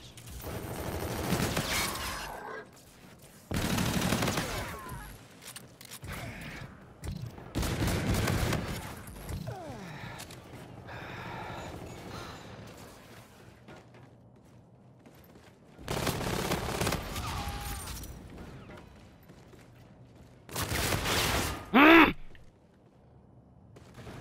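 Light machine gun fire from the video game Call of Duty: Infinite Warfare in gun game mode, sounding as several loud bursts of rapid automatic shots spaced a few seconds apart, with quieter game noise in between.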